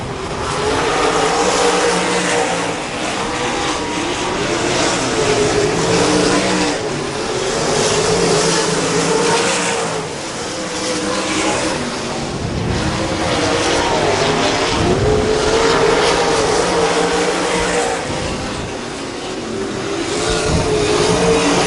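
Race cars circling the dirt oval at Double X Speedway, engines roaring and swelling as packs pass, with loud waves of revving rising and falling throughout.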